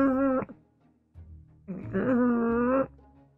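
A pug gives two drawn-out, nasal, moaning grunts, a short one then a longer one, close by and fairly quiet with a low snuffling breath between them.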